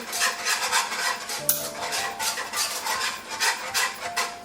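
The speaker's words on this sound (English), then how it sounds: "Whisk that through." Cream being whisked with thyme and nutmeg in a bowl, a steady rapid scraping and clinking of the whisk against the sides, close and continuous with no talk.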